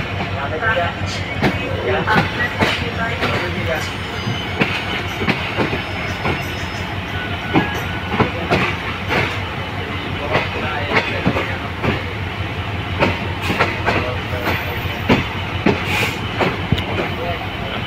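A train at Santahar railway station in Bangladesh, running loud and close with a continuous rumble and regular clickety-clack wheel beats across the rails, while a voice talks over it.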